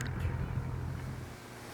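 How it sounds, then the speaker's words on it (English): Wind gusting over a microphone outdoors on a breezy, chilly day, a loud, rough low-frequency buffeting that peaks early and then eases slightly across a short burst. "It's pretty breezy and chilly, but it's not snowing"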